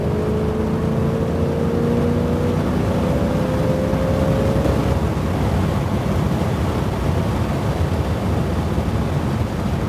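A 1966 Ford Mustang K-code HiPo in Sapphire Blue pulls hard at highway speed, its engine note climbing for several seconds before settling into a steady, loud roar of road and wind noise.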